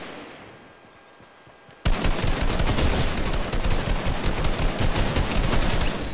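Sustained rapid gunfire in the video game Fortnite bursts in after a quiet stretch of low ambience and continues loud and dense to the end.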